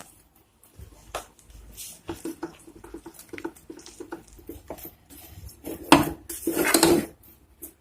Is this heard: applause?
no